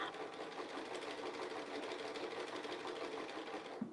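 A sewing machine stitches along a quilt panel with a steady, fast, even mechanical whirring hum at low volume, running without a break.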